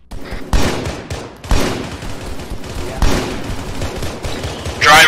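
Gunfire in a military video game, with sharp shot bursts at regular intervals over a steady battle bed of rumble and crackle. A loud, close hit lands near the end.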